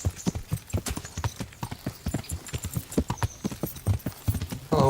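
Horse hooves clip-clop in a steady, brisk rhythm on a road in the medieval game Kingdom Come Deliverance, each step sharp and close, with a brief snort or whinny near the end.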